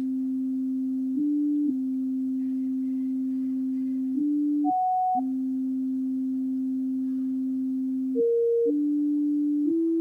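A steady pure electronic tone holding one low pitch, briefly stepping up to higher notes a few times before settling back, alone and clean.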